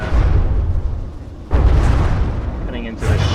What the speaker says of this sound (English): those explosions are coming from Gauss